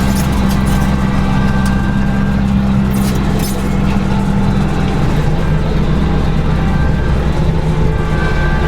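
A Kubota LX2610 compact tractor mows tall grass and brush under a tree, giving a loud, continuous low engine drone with a steady hum and no pauses, heard up close without speech.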